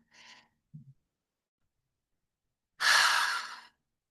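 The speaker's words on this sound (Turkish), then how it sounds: "Şimdi son egzersiz için gözlerinizi kapatın ve çok derin bir nefes alın arkadaşlar." A single long, deep exhale or sigh, close and breathy, preceded by a faint short breath and small mouth sounds, with no talking.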